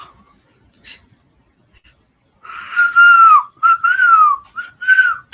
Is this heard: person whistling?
yes